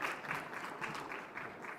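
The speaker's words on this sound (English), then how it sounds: "please clap for them, please" Audience applause at a COP26 panel session on short-lived climate pollutants, a steady wash of clapping from a seated crowd that holds at an even, moderate level throughout with no voices breaking through.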